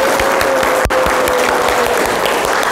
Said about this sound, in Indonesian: Beri tepuk tangan yang meriah untuk Mr.